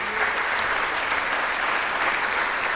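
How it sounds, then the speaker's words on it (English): Steady, dense applause from an evening event crowd, loud and unbroken throughout. "So one more round of applause for them."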